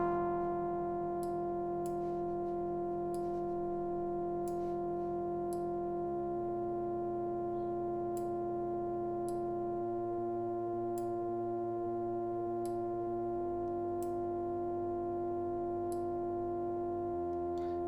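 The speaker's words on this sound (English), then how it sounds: "As I pull this frequency control down, we hear all of these overtones." Arturia Prophet V synthesizer holding a steady tone whose overtones shift in steps as the frequency control is pulled down, with a faint regular ticking on top, sustained and alone.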